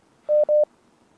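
Two short touch-tone beeps sound in quick succession on a telephone line, clean and close against near silence.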